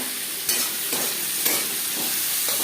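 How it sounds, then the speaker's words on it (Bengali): Chopped onions and tomatoes fry in oil in a pan for katla fish curry, a dense close sizzle broken by a few sharp stirring scrapes and spatula knocks, with no talk. "দিয়ে দেবো 3টে পেঁয়াজ, 2টো টমেটো।"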